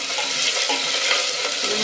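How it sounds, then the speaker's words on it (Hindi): Cauliflower and potato pieces fry in a pan for veg biryani, giving a steady, close, even sizzle with faint stirring scrapes and no voices. "यहाँ गोभी आलू भूज रहे हैं"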